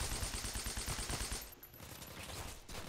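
Rapid gunfire from a video game sniper round, a dense burst of sharp repeated shots for about a second and a half before thinning into quieter background action.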